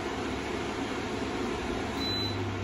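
An air conditioner fan motor running at low speed, a steady close hum with broadband airflow hiss and a faint tonal whine that holds even throughout.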